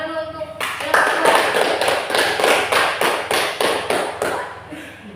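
Classroom students clap in unison for the second group, a few seconds of close, rhythmic clapping with a steady beat that cuts off near the end.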